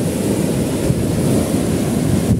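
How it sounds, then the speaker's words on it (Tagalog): Strong surf pounding the shore with steady onshore wind at Alabat, Quezon, a continuous loud roar of breaking waves and gusting wind filling the whole stretch with no voices. "medyo malakas ngayon guys yung alon kasi yung hangin papunta dito"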